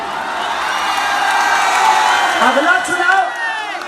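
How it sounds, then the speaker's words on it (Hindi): Audience at a large Khesari Lal Yadav stage show in Kolkata erupts in loud, sustained applause and cheering, with whoops and shouts rising over the steady roar of the crowd. "एक जोरदार ताली होनी चाहिए।"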